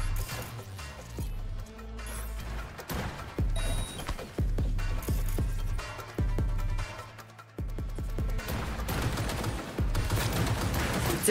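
Weapons fire during Cyberpunk 2077 combat in repeated bursts and single shots over about eleven seconds, with sharp close cracks, rattling automatic volleys and brief mechanical clatter between them.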